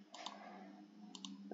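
Mouse clicks from buying upgrades in the idle game Leaf Blower Revolution: a few quick, faint clicks, a close pair near the start and another pair about a second later, over a low steady background hum.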